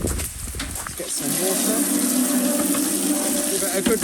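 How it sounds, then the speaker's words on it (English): Water gushes from an outdoor tap in a steady, close splashing stream, following a short rattle and knock as it is turned on; a voice can be heard faintly over the start. "Best place to rinse this would be by the tap, which is down here."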